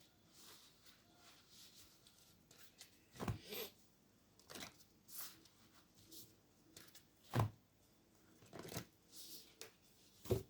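Lightworkers oracle cards are shuffled by hand, a quiet run of soft riffling swishes and papery snaps coming in irregular bursts, close and faint, with occasional louder flicks.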